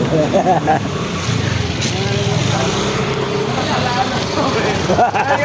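A motor tricycle passes in street traffic, its engine a steady, fairly loud drone with other vehicles around, and a voice talks over it.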